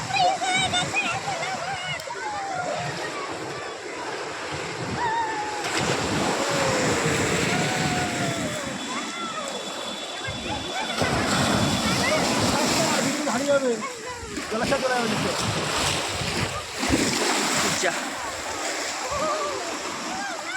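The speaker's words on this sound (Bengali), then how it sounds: "এবারে বড় বড় বড় ঢেউ আসছে এই ঢেউটা বড়" Large sea waves break and wash along the shore at Digha beach, a loud, continuous surging roar with surges and wind buffeting the microphone, while people talk excitedly nearby.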